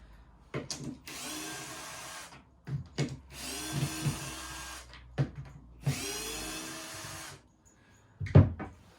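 A power drill whirs in three sustained bursts as screws are backed out of a chipboard floor panel, with knocks and clunks between runs and a heavier thump at the end.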